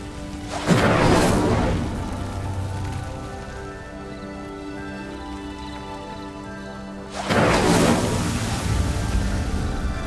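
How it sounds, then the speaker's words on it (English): A pyre in Hogwarts Legacy sinks after being lit with the Incendio spell: two loud rumbling, crashing whooshes with a long low rumble between them and no voices. "The flames make the pyre sink."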